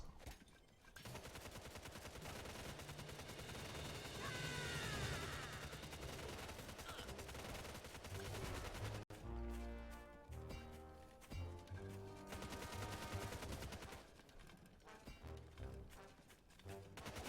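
Machine gun nest in the strategy video game Tooth and Tail firing rapid bursts amid dense battle noise, game music and other gunfire, loud throughout with a brief dropout partway.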